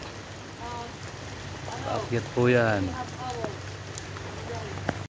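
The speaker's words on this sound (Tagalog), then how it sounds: "Umaga po pero umuulan po." Morning rain falls during a microwave antenna installation in the mountains, a continuous soft patter and hiss beneath a short burst of nearby talk.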